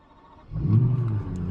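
A McLaren 600LT supercar engine catches after a brief quiet lead-in, bursting into a loud, deep low rumble that holds steady as a settling idle, close by with no talking.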